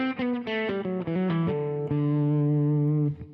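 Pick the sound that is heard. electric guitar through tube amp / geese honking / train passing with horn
electric guitar through tube amp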